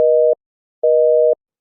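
A telephone busy signal sounds as two loud, steady electronic beeps separated by a short silent gap, clean and alone.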